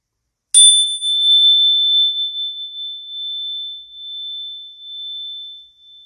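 A single bell is struck once during a live stream, giving a bright, clear ping that rings on alone in a quiet room and slowly fades with a gentle wavering shimmer.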